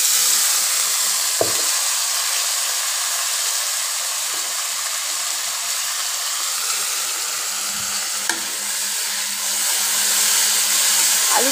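Steady, close hiss of chopped potatoes and onions frying in a pan, a broad even sizzle throughout with a couple of faint clicks from the utensil.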